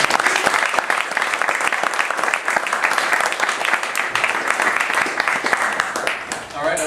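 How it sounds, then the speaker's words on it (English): Audience applause for the presenters at a Ruby user group meetup, dense steady clapping from many hands filling the room for several seconds. "Another round of applause for Dane, Jim, and Nathan."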